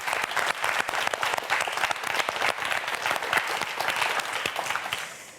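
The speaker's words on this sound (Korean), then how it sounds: "큰 박수 보내주시기 바랍니다" Audience on a TV quiz show breaks into warm, sustained applause, many hands clapping densely and close, fading slightly at the end.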